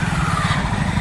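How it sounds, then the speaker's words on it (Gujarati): A motorcycle engine runs with a steady low, throbbing drone as the bike is pushed into a river, close and continuous for a brief moment, with no voices heard. "પાણીમાં બાઇક નાખવાનું છે તારે"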